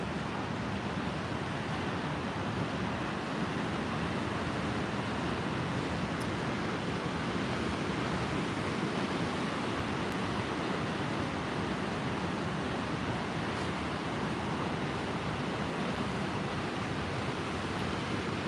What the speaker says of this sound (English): Pretty big waves kicking up here.